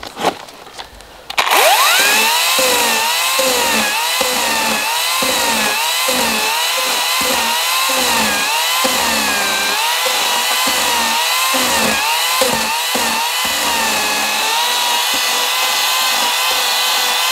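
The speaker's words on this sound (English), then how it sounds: "and then giving it a hollow out with the chainsaw" Chainsaw hollowing out a piece of wood at an off-grid earthbag workshop: the engine snaps to life and runs loud and close, with rhythmic surges and dips as the chain bites repeatedly into the wood.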